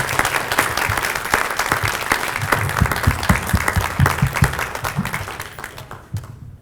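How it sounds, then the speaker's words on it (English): Steady applause from an audience of parents and students fills a school assembly honoring its Terrific Kids, dense even clapping that holds for several seconds and tapers off at the end. "Let's give all of our terrific kids a round of applause."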